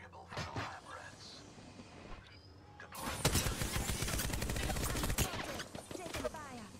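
Weapon fire in the battle royale shooter Apex Legends comes in a burst of rapid cracks from about three seconds on, with a quieter stretch before it. Players talk over the shooting.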